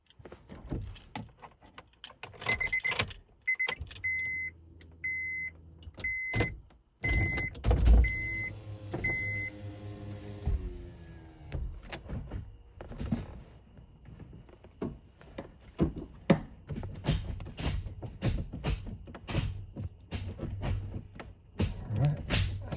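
A car engine is started after a MAP sensor, idle control and downpipe were installed. A repeating beep and keys come first, then the engine cranks, catches and settles into a lumpy idle with revs rising and falling.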